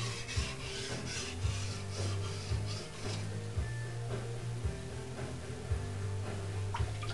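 A forged kitchen knife rasps steadily against a sharpening stone, strokes repeating in an even back-and-forth rhythm under light pressure, close and moderately loud with a low mechanical hum beneath.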